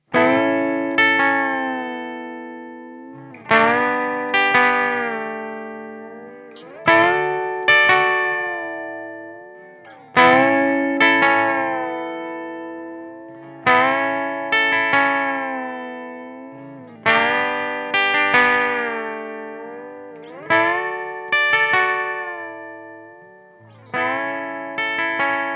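Electric guitar plays repeated blues phrases with country-style string bends, a series of plucked licks in a steady metric pattern, each note ringing and decaying, slightly effected, with no voices.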